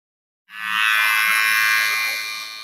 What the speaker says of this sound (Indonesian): Jadi fungsinya hair dryer ini selain mengeringkan rambut, untuk styling rambut